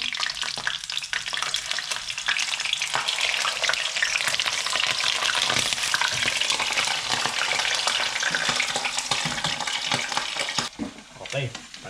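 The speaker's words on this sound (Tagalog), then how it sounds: "Ipa-fry natin siya for 10 minutes. Ganun din, 5 minutes bawat side para lang magkaroon ng added texture" Pork hock frying in oil in a pan, a dense, continuous loud sizzle with crackling spatter that runs steadily and then eases off at the end, with no talking.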